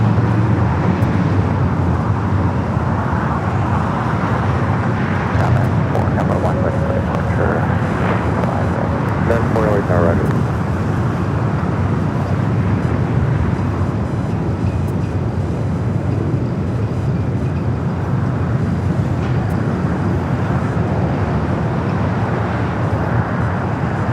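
A Southwest airliner at LAX produces a loud, steady broadband jet roar lasting the whole stretch, with voices talking faintly underneath.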